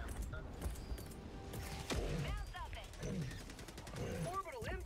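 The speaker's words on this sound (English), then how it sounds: "Orbital Gatling barrage." Orbital Gatling barrage gunfire in Helldivers 2 against Automatons, heard as a dense, continuous rattle of rapid shots and crashing impacts under tense game noise, with voices talking throughout.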